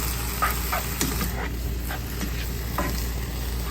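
Minced beef dry-roasting in a pan for Thai laab, with steady sizzling and a few scraping stir strokes, close and fairly loud, no talk.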